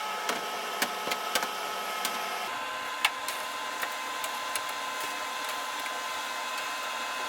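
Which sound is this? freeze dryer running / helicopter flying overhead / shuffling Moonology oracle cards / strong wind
freeze dryer running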